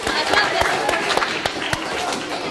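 Audience applause at a student presentation meeting in Katowice: a steady wash of clapping with a few sharper individual claps standing out, mixed with voices throughout.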